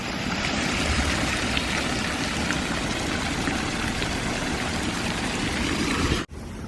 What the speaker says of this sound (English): Check out this great little fountain here, just to admire it.